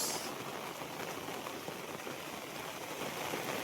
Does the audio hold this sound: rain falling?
yes